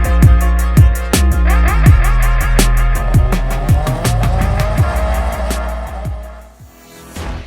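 Race cars competing in a twin-track autocross shootout at Race Wars India 2021, engines revving hard with repeated gear-shift surges and tire squeals, loud and close throughout, fading slightly at the end.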